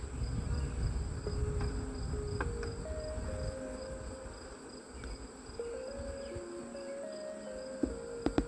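Honeybees swarm around an opened hive during a hive split, a dense, steady buzz of many insects with individual bees droning past at shifting pitches, near and unbroken, no talk.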